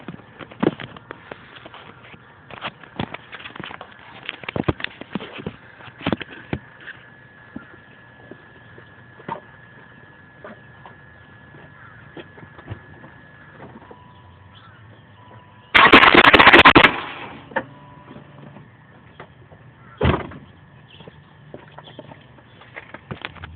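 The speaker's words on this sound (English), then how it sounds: "I'll give you one more shot of me trying to start the car here." A BMW E39 with a starter problem failing to start: scattered clicks and rattling knocks from the starter, then a loud harsh grinding burst of about a second, followed by a single sharp clunk.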